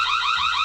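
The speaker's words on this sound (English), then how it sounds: "press a button to manually trigger the siren" A loud electronic siren from a manually triggered Argus PT Ultra security camera wails steadily, its warbling tone filling the whole short clip without pause.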